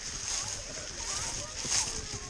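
Live bluegill and rock bass being released by hand into a pond, a few soft splashes and sloshes of water close by, with people talking over them outdoors.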